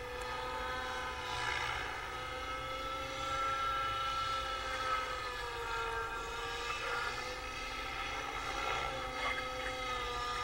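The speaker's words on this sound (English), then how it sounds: "the helicopter is fighting its own airflow" A helicopter performing a fast backward-flying stall turn maneuver, giving a steady, continuous engine and rotor drone that stays loud and even throughout, with no voices over it.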